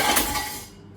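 A metal cooking pan is pulled out in a kitchen and clanks once sharply, the ringing clatter fading away over about a second.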